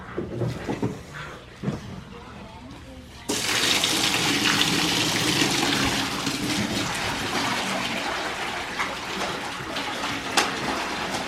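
A hose fills a fish holding tank with pond water: after a few seconds of quieter splashing and handling noise, a loud, steady rush of pouring water begins abruptly and continues to the end.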